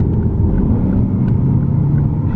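Lexus RC F with a 467 hp V8 under full throttle, a loud, steady low engine rumble that stays constant throughout, close to the listener and heard from inside the car with no talk.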